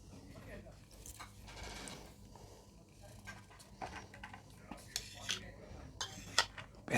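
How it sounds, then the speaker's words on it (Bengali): Food being served from a pot onto a plate at a cafe, with quiet scraping and clinking of a spoon against cookware, faint murmuring voices in the background. "তাকে আমি খাবারটা বেড়ে দিচ্ছি"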